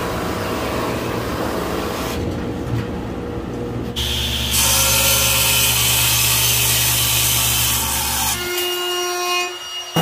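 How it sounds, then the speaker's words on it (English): Power sanding of a piece of wood, a loud continuous abrasive rasp that shifts pitch and intensity partway through as the tool presses and changes, then cuts off near the end. "I can now sand and whatever else."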